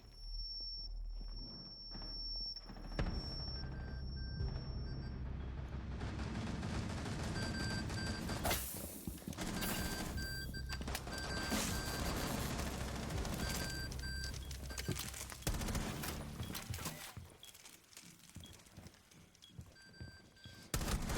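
Video game shooting at a man: sustained, dense gunfire and impacts over a loud, cluttered game soundtrack, with bursts continuing for a long stretch.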